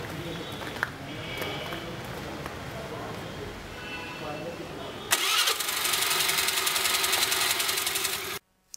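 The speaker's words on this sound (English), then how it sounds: "After entering the correct passcode, the engine turns on" A modified Honda Dio scooter's engine starts up with a sudden mechanical catch and then settles into a steady, loud running drone for several seconds before cutting off abruptly.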